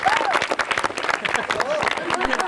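An audience claps for winning children on a Marathi TV game show, a dense burst of applause with crowd noise and voices talking over it throughout.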